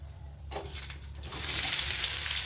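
Ginger, garlic and spices frying in a pan for a Karnataka-style mutton curry with lentils: a soft hiss begins after a brief pause, then swells into a steady, louder broadband sizzle, close up, with no talking.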